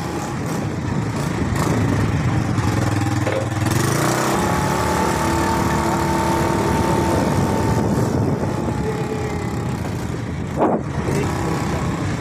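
A motorcycle engine runs steadily and fairly close, its droning hum with harmonic tones holding throughout, briefly rising in pitch near the middle, with no talk over it.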